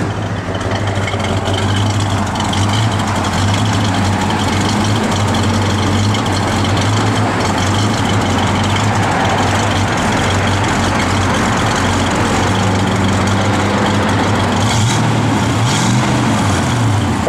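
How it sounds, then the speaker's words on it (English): A 1970 Plymouth Duster's engine idles steadily, a loud, close, deep rumble with a constant low throb and no changes in revs. "Car sounds good. It's got good sound to it."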